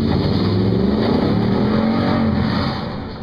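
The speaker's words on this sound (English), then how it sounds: "Why don't you give them a little taste of the exhaust note here?" A Toyota TRD Pro truck with TRD dual exhaust revs hard at an indoor auto show, its deep, loud exhaust note rising and holding steady before easing off near the end.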